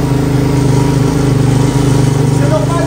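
Xduro 160 motorcycle idling on the choke, a close, loud, steady low-pitched thrum with a fast regular pulse throughout, no talk over it.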